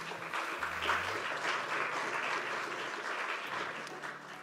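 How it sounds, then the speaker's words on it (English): Steady audience applause fills a conference hall at a fisheries and aquaculture event, a dense, continuous wash of many hands clapping at even loudness, with a faint low hum underneath and no speech. "Warm round of applause."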